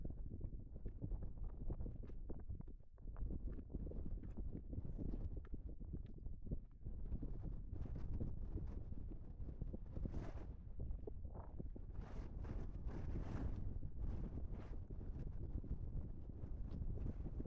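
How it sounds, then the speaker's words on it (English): Strong gusty wind on the mountain trail to Pen y Fan and Corn Du buffets the microphone with a constant roaring rumble, rising and falling in rushes over about seventeen seconds. "Oh, it's getting windy."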